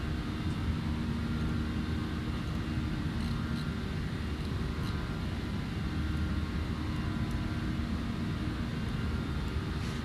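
Steady airliner engine roar from the CFM56 turbofans of a Delta A321 in the X-Plane 12 flight simulator, a constant broadband drone with an even level and no speech.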